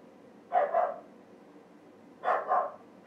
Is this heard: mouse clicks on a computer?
no